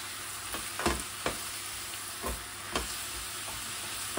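Food melts and sizzles in a hot pan as part of a fish mousseline starter, a constant hiss broken by a few soft pops and stirring taps, close and fairly quiet.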